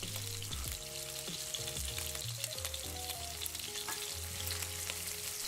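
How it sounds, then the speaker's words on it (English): Lamb trimmings, roughly cut shallot and parsley stalks fry over medium-high heat in vegetable oil in a pan, a steady close sizzle running throughout with music playing over it. "Using medium-high heat, slightly cook lamb trimmings and roughly cut shallot and parsley stalks."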